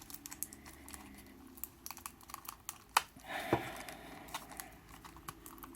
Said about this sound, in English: Come on, tape. Alright, we're just going to cut this.